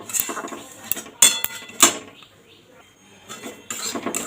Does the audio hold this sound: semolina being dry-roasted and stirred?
yes